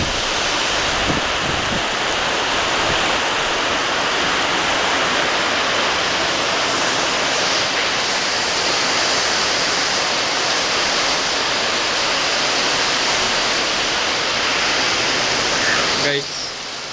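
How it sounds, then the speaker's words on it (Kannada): Rain pours steadily in Shimoga after a heavy burst, with water flooding the road. It makes a loud, continuous broadband wash close by that holds evenly throughout, with no voices, and cuts off abruptly near the end. "ಮಳೆ ಅಂತೂ ಈಗ ಶಿವಮೊಗ್ಗದಲ್ಲಿ ತುಂಬ ಬಂದಿದೆ"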